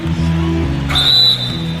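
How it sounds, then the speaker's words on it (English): Referee whistle in the basketball video game NBA 2K18, one shrill blast of about half a second over steady low game music and ambient noise. "So the whistle blows on the shot"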